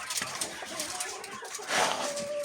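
Caged hens on a poultry farm cluck softly and intermittently against a steady background hiss, with one louder stretch of clucking near the end.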